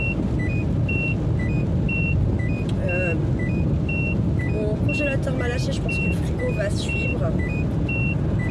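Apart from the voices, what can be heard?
car seatbelt warning chime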